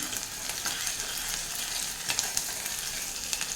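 Finely chopped onion sizzles in hot oil over a low-to-medium flame, with soft scraping as it is stirred; a steady, close crackle of moderate loudness.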